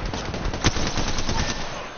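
Rapid video-game gunfire crackles in a fast burst of shots, fairly loud and continuous, with one sharper hit standing out partway through.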